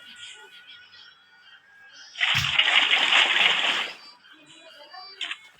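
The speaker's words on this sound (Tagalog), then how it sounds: "Etong tubig na to, lalagay ko muna to doon sa fish pond." Water splashes into a fish pond in a short, loud burst lasting under two seconds, set against quiet outdoor background noise.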